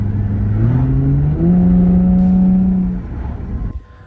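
A stock Nissan 350Z's VQ V6 engine hums steadily at idle, then its pitch rises and holds in a smooth drone before settling, loud and close with no voices.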